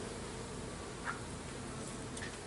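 Honeybees swarm around an open backyard hive during frame inspection, a steady dense buzzing hum filling the background, close and continuous with a few brief louder passes.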